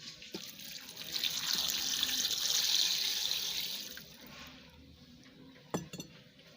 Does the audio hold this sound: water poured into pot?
yes